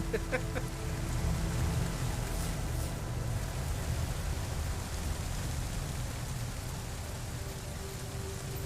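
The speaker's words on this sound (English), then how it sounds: "have you heard of acid rain? That's what's going on here." Acid rain pours steadily in No Man's Sky, a dense, even hiss of falling drops that holds at a constant level throughout with no break.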